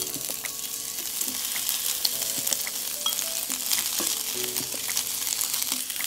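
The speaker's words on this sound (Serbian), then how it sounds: "Kada se tiganj dobro ugrejao, stavit ću kožu da se proprži dok ne postane fino hrskava" Skin fries in a well-heated pan until crisp, a continuous close crackling sizzle with frequent small pops and spits, no voices.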